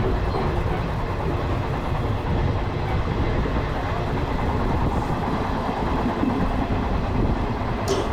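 Passenger train from Narasapur toward Renigunta and Tirupati running at speed, heard as a steady loud rumble and rattle with faint clicking of wheels, continuous throughout.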